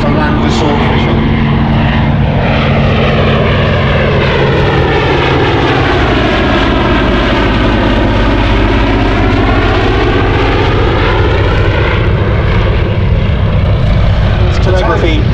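A Fairey Swordfish biplane flies past at an air show at Shuttleworth, its propeller engine droning loudly and steadily with a rising then falling pitch sweep as it passes close by.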